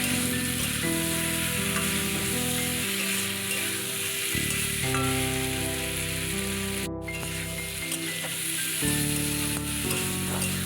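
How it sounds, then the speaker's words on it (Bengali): Spiced elephant foot yam and hilsa curry sizzles and fries steadily in a pan with salt, turmeric, green chilli and chilli powder, stirred now and then, loud and close with no talk. "বেশ ভালো করে এটা কষিয়ে নেব।"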